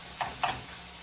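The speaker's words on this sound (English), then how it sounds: "then fry it up in its own fat for a while" Taco meat frying in its own fat, heard as two brief stirring scrapes over a faint, steady sizzle.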